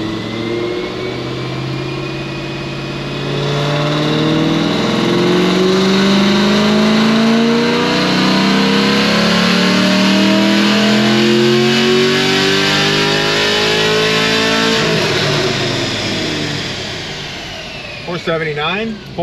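A manual Chevy SS with upgraded heads and cam, 23,000 miles, revving hard on a dyno in one long loud pull. The pitch climbs steadily to a high wail, then drops away as the throttle is released.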